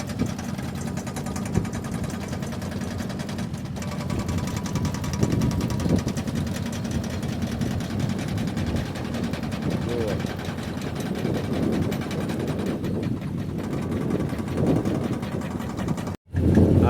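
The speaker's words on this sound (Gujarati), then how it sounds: "આ લાઈન નાખવા માટેના જો મશીન હાલે બધા" Several heavy machines laying a Narmada company water pipeline run together nearby, a steady low engine drone and rumble lasting throughout, with a short break near the end.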